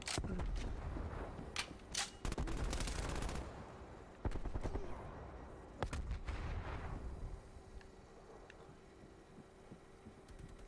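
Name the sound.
gunfire from a gun in a video game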